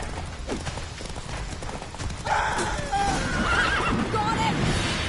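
Roach the horse from the video game Witcher 3 gallops with soft, busy hoofbeats, then lets out a clear, prominent neigh that rises and wavers over the second half.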